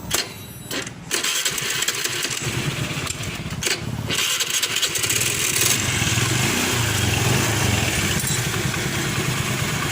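An automatic scooter's engine is started, catching after a brief crank and then running steadily at a loud, close idle with a continuous mechanical rattle, recorded alone without talk.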